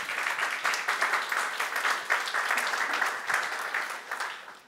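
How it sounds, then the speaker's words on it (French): A church congregation applauds its elders, a moderately loud round of clapping that swells in gentle, repeating surges before tapering slightly near the end. "Vous pouvez les applaudir"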